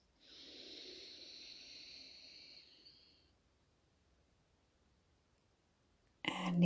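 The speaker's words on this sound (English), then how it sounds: "Breathing in through your nose." A slow, deep inhale through the nose during a guided breathing exercise, close and soft, lasting about three seconds before fading into near silence.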